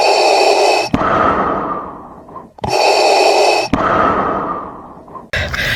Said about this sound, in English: I can't really breathe, and then I'm walking, so I'm sorry I'm breathing heavily.